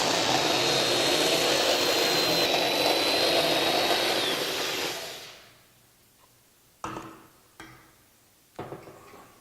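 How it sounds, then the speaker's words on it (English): A hub hat disc grinder runs flat across a steel welding table, a loud steady whine for several seconds before spinning down, followed by a few short scraping knocks. "as a hub hat grinder, only the outside edges of the disc will actually make contact with the surface"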